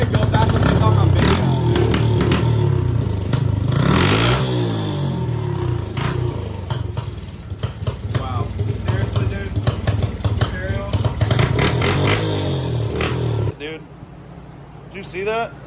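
Pit bike engines, a Piranha 140 and a modified CRF 50, rev and sputter loudly up close in repeated bursts, then cut off abruptly near the end, with people talking over the noise.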